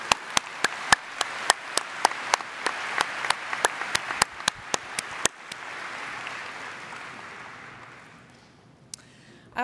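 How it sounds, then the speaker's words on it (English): Conference audience applauds the paper reviewers at a technical papers session: a run of sharp, evenly spaced loud claps near the microphone over softer crowd clapping, which then thins out and fades to quiet. "So let's give all the reviewers a big round of applause."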